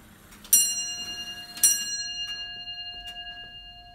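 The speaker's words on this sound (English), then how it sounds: "just so you can hear what it sounds like when it strikes on the hour" A tall case clock at the Campbell House Museum strikes the hour with two clear bell tones about a second apart, each ringing on and fading, followed by faint ticking.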